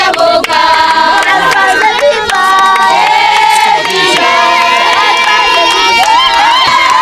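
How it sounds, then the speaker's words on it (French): Crowd in Kolwezi welcoming an official at a school construction launch, loud and close. Many voices sing and cheer together in a sustained, joyful chorus with shouting throughout. "Une foule en liesse l'a accueilli avec des chants de joie"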